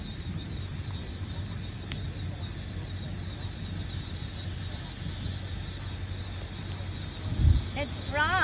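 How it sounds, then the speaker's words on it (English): Frogs call at night in the Yucca Wildlife Management Area of Florida, a steady high-pitched chorus trilling continuously in the background, faint and distant, with a brief low bump of handling noise near the end. "It's frogs."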